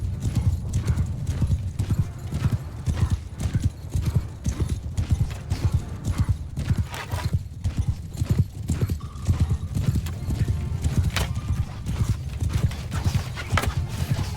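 Massed horse archers gallop across a battlefield in Mount & Blade 2: Bannerlord, a dense continuous drumming of hoofbeats with occasional whinnies, loud and steady throughout with no voices.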